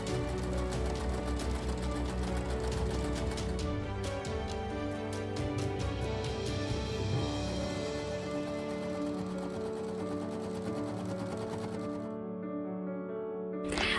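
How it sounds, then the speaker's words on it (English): A sewing machine stitches up the side seams of a skirt with pockets for a Cinderella-style dress, whirring steadily and close for most of the stretch before stopping near the end. "After that, I pretty much sewed up the sides with the pockets"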